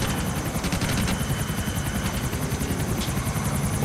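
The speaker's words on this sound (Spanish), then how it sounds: "Con cuidado, pinche helicóptero, güey." Helicopter in the GTA IV video game, a steady loud rotor thump with constant engine whine running unbroken throughout, close and dominant with no talk.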